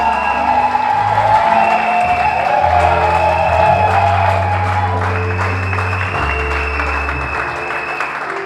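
A church congregation claps loudly and cheers during a worship service, a dense sustained applause with held musical tones underneath and scattered shouts.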